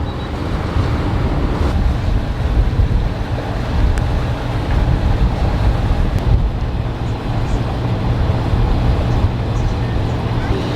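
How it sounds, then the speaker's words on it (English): Open-ocean wind and waves rush loudly around a moving catamaran while another ship passes, the steady roar mixed with heavy wind buffeting on the microphone. "There's another ship."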